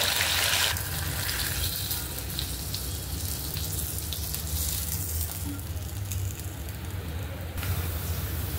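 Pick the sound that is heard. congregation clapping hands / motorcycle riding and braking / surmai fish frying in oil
surmai fish frying in oil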